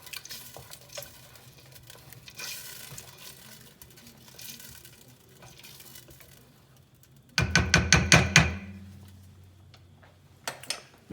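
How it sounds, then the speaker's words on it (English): A spoon stirs a lamb ragu sauce in a pot over a medium flame, giving soft scraping and sizzling with a burst of quick, loud clacking strokes near the end. "Gonna give it a good stir."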